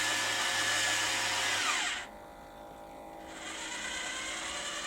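A Warco WM180 lathe's variable-speed feed motor runs at about half speed, a steady high-pitched electric whine that drops away briefly partway through, then returns somewhat quieter.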